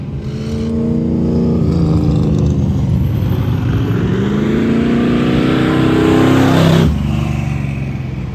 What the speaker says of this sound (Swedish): En GTO-cab ser det ut som, eller en Pontiac i alla fall, som jagar en Corvette och följt av en banracing Camaro